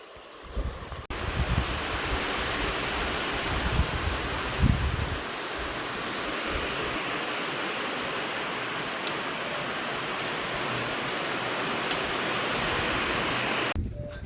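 Steady rain pours at a hilltop temple reached by a long climb of steps, a dense, even hiss that stays loud and close for the whole stretch with no voices.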